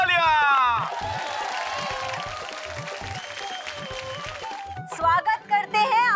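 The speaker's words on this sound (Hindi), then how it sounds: "तालियां।" Studio audience applause bursts out loudly at the start of a Hindi TV comedy show, settling into a steady sustained clapping roar, then fades as voices and music-like tones come in near the end.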